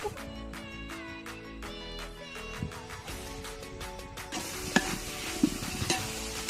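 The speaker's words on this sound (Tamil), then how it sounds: "வதங்கிட்டு இப்போ இஞ்சி பூண்டு பேஸ்ட்டு ஆட் பண்ணிக்கிடுவோம்." Onions with ginger garlic paste being sautéed in a pot, giving a soft steady sizzle with scraping stirs that grow busier and louder toward the end, with no voices.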